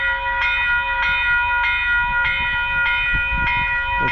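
A passenger train passing nearby, with a steady tonal hum and a rhythmic clatter of wheels over rail joints repeating about every half second, loud and continuous.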